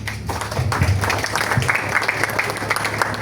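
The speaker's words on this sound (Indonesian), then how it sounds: "Tepuk tangan untuk Mas Nanang." Applause from an audience at a SAR DIY search-and-rescue gathering, a steady wash of clapping that rises and holds for a few seconds, with a low hum and some voices faintly underneath.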